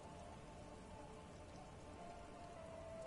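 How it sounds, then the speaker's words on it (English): Rain falls on water in a PS4 video game scene, a steady dense patter and hiss of droplets, faint and continuous without pause. "There are rain circles on water all around."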